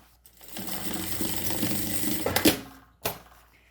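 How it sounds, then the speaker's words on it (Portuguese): A sewing machine stitches over a zipper on a small fabric pencil case, running in a fast mechanical whir for about two seconds, then stopping with sharp clicks and a final clack. "passo uma costurinha em cima do zíper"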